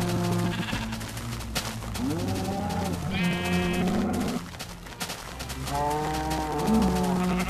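Minecraft sheep bleat repeatedly in a farm scene, several wavering, nasal cries close by, overlapping with a steady background drone and occasional cow-like lows.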